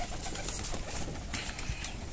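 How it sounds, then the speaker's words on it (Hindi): Hungry pigeons coo softly before feeding in Varanasi during summer heat, a low murmuring drone under steady background noise with no talk. "आज मैं कबूतरों को दाना अभी डालूंगा, ये लोग भूखे हैं।"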